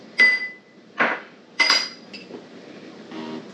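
Bruschetta ingredients being mixed in a bowl or tray with a metal utensil, giving three sharp metallic clinks about half a second apart, close and clear, followed by a softer scrape.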